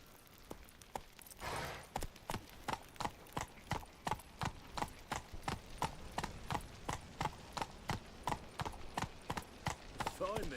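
The horse Roach gallops in a video game with a steady stream of sharp, evenly spaced hoofbeats, close and distinct. A brief neigh-like sound comes near the end.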